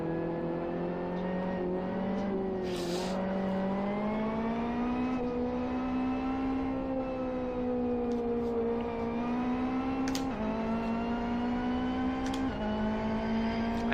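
A race car engine with ignition cut in the Live For Speed racing game holds a steady, buzzing harmonic drone whose pitch steps up and down as revs shift, loud and continuous throughout.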